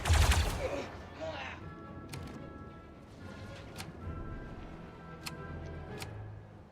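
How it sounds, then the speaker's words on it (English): A loud burst at the start, then several sharp, sparse cracks scattered over a quiet background, from gunshots in the turn-based game Star Wars Zero Company. "The next best thing, I suppose, would be to simply shoot the man in the face."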